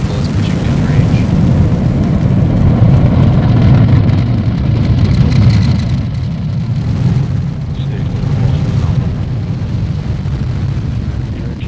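Falcon rocket carrying a Dragon capsule lifting off, a loud, sustained, rumbling roar that holds steady throughout and thins slightly toward the end.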